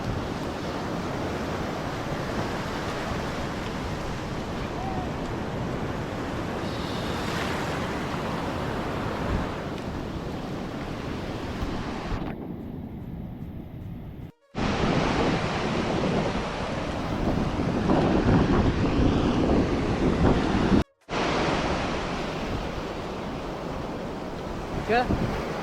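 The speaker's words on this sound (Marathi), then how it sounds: "पाठून लाट येते" Ocean waves breaking and surging on Ladghar beach at Dapoli, a continuous roaring wash of surf with heavy wind buffeting the microphone, briefly cut out twice.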